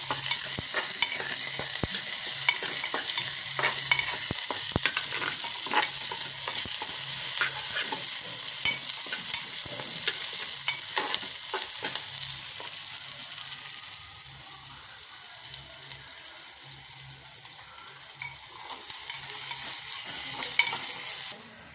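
Chopped onion sautéing in a pan for a Marathi breakfast made from leftover chapati, with curry leaves: a steady, close sizzle and frying hiss broken by frequent scraping and stirring clicks, sustained throughout with no voices.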